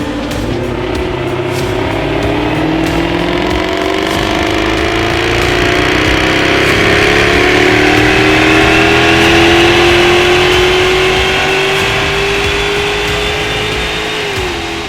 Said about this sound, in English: we've just run it on the dyno for its final run